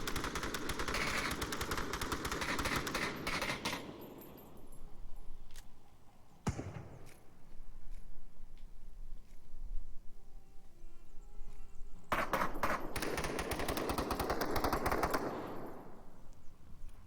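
Rapid automatic gunfire in the VR shooter Onward during a competitive scrim match, dense bursts of many shots at the start and again near the end with quieter stretches and a single loud crack between.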